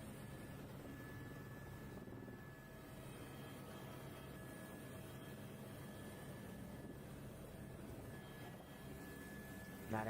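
Helicopter in flight, heard as a steady low rotor drone with a broad rumbling wash that stays even and moderately distant throughout, with no voices.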